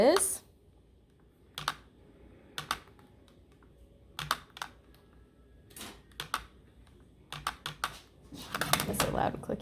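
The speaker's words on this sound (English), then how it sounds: "that's a loud clicking noise" Loud, sharp clicks strike in irregular bursts with quiet gaps between, some in quick clusters, close and dry like keys or a mechanism being pressed, with no voice over them.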